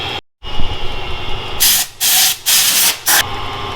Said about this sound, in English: We'll drill it.